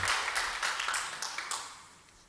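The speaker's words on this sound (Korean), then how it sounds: "우리 인사할 때 박수로 환영하고 격려하도록 하겠습니다." A church congregation at a Sunday worship service claps in welcome, a brief scattered round of applause heard from a distance that fades away over a couple of seconds.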